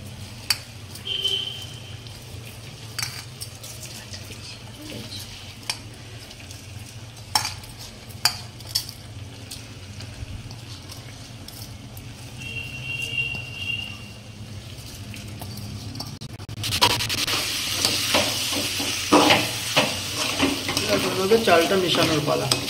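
Gobindobhog rice being stirred into frying chicken for pulao, a soft scraping and sizzle in the pan that grows louder and busier toward the end, with quiet clinks of a utensil.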